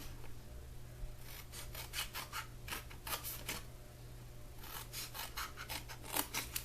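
Paper snips cut paper for a picnic-basket party favor craft. There are quick repeated crisp snips in clusters, close and fairly quiet, with a short pause midway and no talking.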